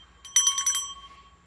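A notification bell sound effect rings out as a quick cluster of bright, metallic dings, about five rapid strikes fading into a short ring, alone over near silence.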